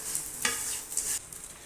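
Grated coconut and chilli powder are stirred in a hot pan, with a few short scraping strokes over a faint, quiet sizzle.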